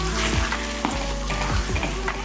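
Ground tomato paste going into a pan of frying onion and garlic, a dense close sizzle with a low steady hum and a few soft scrapes and bubbling bursts.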